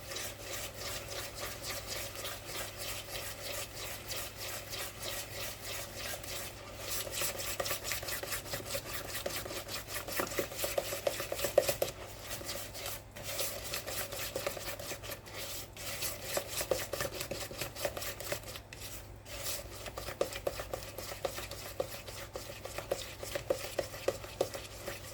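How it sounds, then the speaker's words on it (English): A spoon or whisk stirs an egg into strawberry muffin batter in a bowl, a steady close scraping and rubbing that keeps a quick, even rhythm throughout, with no talk. "And then I'm going to mix this very well."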